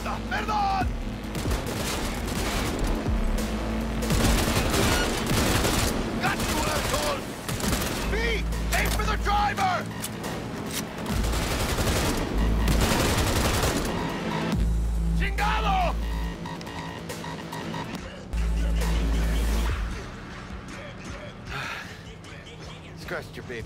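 Assault rifle fire in Cyberpunk 2077 during a car chase, loud bursts of gunfire over a roaring engine and music, with voices talking between shots.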